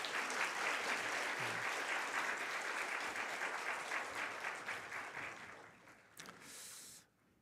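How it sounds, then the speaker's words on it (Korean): Applause for the worship team fills a Korean Sunday church service: sustained clapping from the congregation runs for about six seconds before tapering off and stopping abruptly. "우리 찬양팀 내려갈 때도 박수 한번 쳐주면 안 될까요?"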